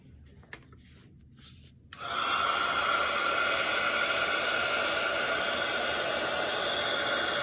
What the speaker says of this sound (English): I'm gonna go ahead and heat up my embossing powder with my heat tool